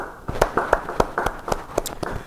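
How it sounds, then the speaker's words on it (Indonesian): A small group claps at a church Bible study service, giving sharp, distinct claps in a loose rhythmic pattern at close range that swells and thins over a couple of seconds. "mau beri tepuk tangan buat Tuhan"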